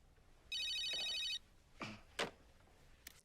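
Telephone in a movie scene ringing once with a short electronic trill, clear and close, followed by a few faint handling sounds in a quiet room.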